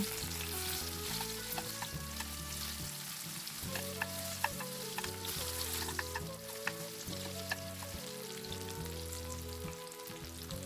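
Zucchini sizzles steadily in hot oil in a frying pan, a loud continuous crackle of frying with occasional pops and faint tonal hum underneath.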